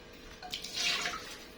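A small amount of hot water, about half a little cup, is poured into a cooking pot while making zucchini; a short splashing pour swells briefly and then fades, with no talking.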